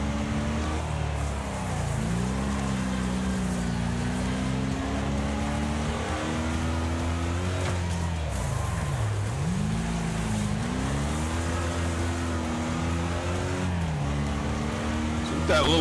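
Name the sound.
race car engines in Wreckfest video game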